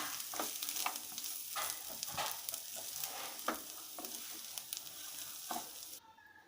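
Chicken chukka with coriander being stirred in a hot pan, a steady close sizzle with scraping stir strokes every second or so, then cutting off abruptly near the end.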